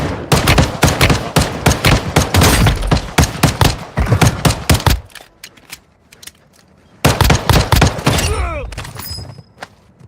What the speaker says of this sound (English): I love the gun sounds. That's pretty realistic.